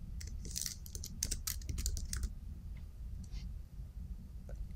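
A library name is typed on a computer keyboard as a quick cluster of faint keystroke clicks, followed by a few scattered taps against a low background hum.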